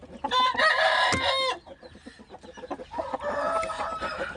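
A rooster crows loudly nearby, followed by restless clucking and a second, softer crowing call.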